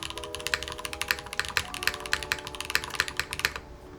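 Someone types on a mechanical keyboard set to a changed typing angle, giving a brisk, even run of close, crisp key clacks with no talking.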